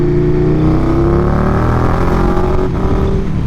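A car engine revs hard toward high RPM, its loud, steady drone holding close and alone throughout.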